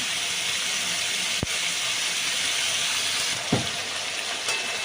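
Raw pumpkin fries in a pan while being stirred, giving a steady, fairly loud sizzle with two sharp knocks of the spoon against the pan partway through.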